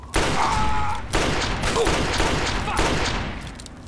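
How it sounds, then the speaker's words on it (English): Enemy gunfire in the video game Fallout 3 comes in three loud, close bursts of rapid shots, each roughly a second long and separated by brief gaps. "There's no need to be shooting at people you don't know."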